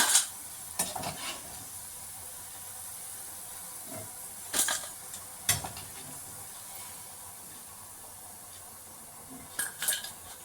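Onion pakoda frying in hot oil with a steady low sizzle, punctuated by a few sharp metallic clinks of a ladle or spoon against the pan as the fritters are turned, with no one speaking.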